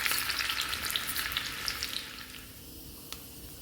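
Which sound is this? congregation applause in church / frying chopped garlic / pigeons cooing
frying chopped garlic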